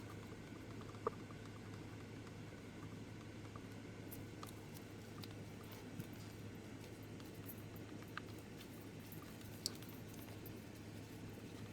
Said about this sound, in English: And then I'm going to get it stirred up really good.